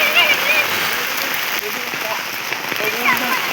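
Steady rain pours down in a dense, hissing wash during a Ganesh immersion in Chiplun, Konkan, with birds chirping faintly and a few voices murmuring in the background.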